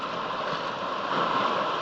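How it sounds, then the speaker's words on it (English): Waves surging into a rocky ledge at Compass Cay in the Bahamas, a soft, steady hollow rush of water heard faintly at a distance. "That's where that noise is when the wave goes in."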